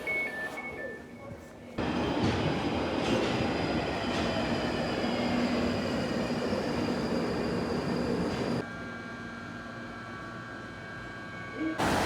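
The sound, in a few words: train at a railway station in the UK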